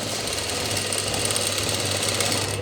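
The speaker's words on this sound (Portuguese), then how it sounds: "eu tô fazendo costura reta aqui" A domestic sewing machine runs steadily through a straight seam on a themed cotton dish towel, a continuous close mechanical whir with fast even stitching rhythm and a low motor hum, no voices over it.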